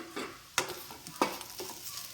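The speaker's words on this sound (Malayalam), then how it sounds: "ഒരു വലിയ ഉള്ളിയുടെ ഒരു കഷ്ണം ഇങ്ങനെ ചെറുതായിട്ടൊന്ന് കട്ട് ചെയ്തതും 2 തണ്ട് കറിവേപ്പിൻ്റെ ഇലയും കൂടി ഇട്ട് ഇതൊന്ന് വറുത്തെടുക്കുക" Chopped onion and curry leaves fry in a pan for a raw jackfruit curry, a soft steady sizzle broken by two sharp crackling bursts and light stirring sounds.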